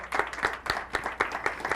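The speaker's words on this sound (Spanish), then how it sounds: "Para ella, un fuerte aplauso." A small group gives a short burst of clapping at a university panel event, with sharp, evenly spaced claps close by and no talking.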